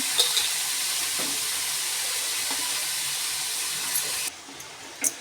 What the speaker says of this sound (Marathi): मी अशी न पाणी घालता अशी परतून घेणार आहे चांगली तेलावरती।